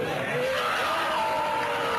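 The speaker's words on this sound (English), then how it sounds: "And now they're lighting the effigy on fire, and everybody's cheering" A crowd cheers as an effigy is set alight at a night gathering in Bohemian Grove, a steady wash of distant voices and whoops with a drawn-out call rising above the din.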